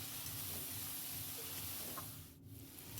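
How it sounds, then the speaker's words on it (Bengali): Potatoes being sautéed in a spice masala give off a soft, continuous sizzle and hiss, faint and even, with a brief dip near the end and no talk. "এবার আলুটা দিয়ে ভালো করে কষিয়ে নিই"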